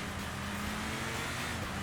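A racing car's engine drones steadily in Sega GT Online, a constant mid-pitched hum at moderate volume with no clear rise or fade.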